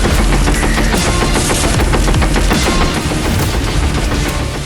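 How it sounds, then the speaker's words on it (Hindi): Continuous gunfire from a burning military vehicle struck by a Ukrainian drone, a loud, dense, unbroken rattle of rapid shots close by, lasting throughout with no talking. "आग लगने के बाद वाहन में जो खराबी आई, उसकी वजह से लगातार फायरिंग होने लगी"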